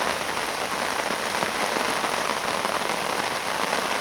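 Heavy rain falling at a carp fishing lake, a dense, constant hiss of drops pattering on surfaces, loud and close, with no talk.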